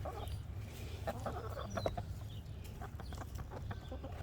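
Chickens in a coop cluck softly and intermittently at moderate distance, with scattered short calls over a low, steady background hum.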